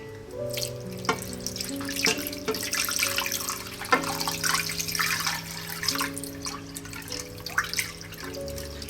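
Water pours and splashes steadily into a wok holding pork belly, with occasional knocks and drips over soft background music.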